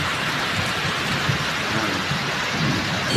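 Heavy rain pours down steadily in a dense, loud hiss with a low rumble underneath, continuous and unbroken, during a flooding downpour in Las Piñas, Philippines.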